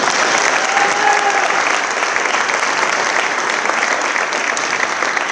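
Sustained, loud applause from an audience at a Liberty High School student athlete signing ceremony, steady clapping filling the room for several seconds with no speech over it.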